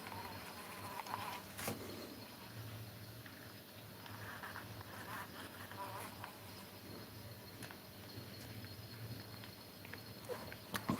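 Wild solitary bees, Osmia and leafcutter bees, buzz steadily at a nest collection, a faint continuous insect drone with scattered brief clicks and taps and no voices.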